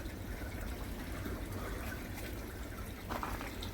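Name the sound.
water bubbling in a cold koi pond from an air stone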